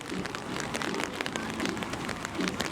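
Steady rain patters on a surface, a dense crackling hiss with scattered louder drops, close by and continuous.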